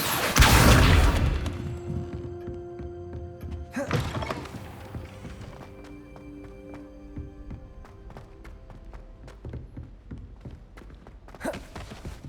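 Accio summoning spell cast in Hogwarts Legacy, a loud opening whoosh and thud followed by a lingering shimmering magical hum, then a sharper burst near the end, with no talk.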